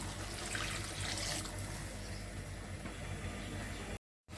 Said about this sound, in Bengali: দিয়ে দিচ্ছি ঝোলের পানি